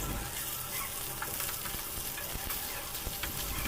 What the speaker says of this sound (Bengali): এবার মাছগুলোকে তেলের ভিতর দিয়ে ভালো করে ভেজে নিচ্ছি